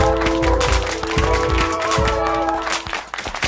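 Audience applause for a pianist and thereminist, heavy steady clapping that thins out toward the end over a sustained musical tone.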